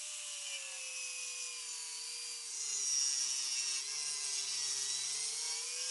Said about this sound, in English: Cut along the guide, flip the board, re-secure it, and then cut again.